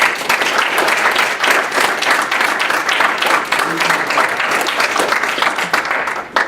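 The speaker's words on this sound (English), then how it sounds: "We're giving them a round of applause." A student senate audience at Valparaiso University breaks into steady, sustained applause, a dense wash of many hands clapping that holds evenly throughout and fades slightly at the end.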